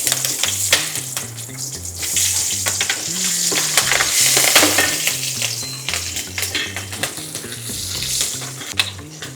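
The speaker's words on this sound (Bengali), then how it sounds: "এই কাঁচা লঙ্কা যেটা ফোড়নটা দিচ্ছি এর মধ্যে দিয়ে দিচ্ছি।" Halved green chillies tempering in hot oil crackle and sizzle loudly, with spatters and stirring clatter throughout, over a low rhythmic background hum.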